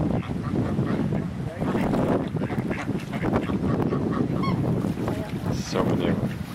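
A crowd of ducks on the water quacks and honks continuously in a dense overlapping chorus, some calls near and some farther off, with occasional quiet talk mixed in.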